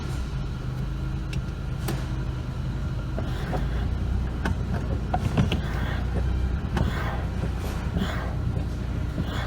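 A car on a test drive after front-end brake pad and transmission fluid work, with a steady low road and engine rumble from inside the cabin and occasional small clicks and rattles throughout.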